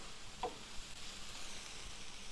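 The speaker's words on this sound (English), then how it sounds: "I'm going to stir the vegetables a little bit here." Vegetables sizzle steadily on a Blackstone griddle while being stirred for a Michigan cheesesteak sandwich, a soft continuous frying hiss broken by a brief scrape near the start, with no talking.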